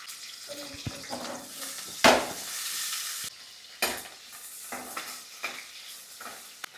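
Onions fry in oil in a kadai with a soft, steady sizzle, broken by occasional scraping stirs and clinks of a spoon against the pan, close and moderately quiet.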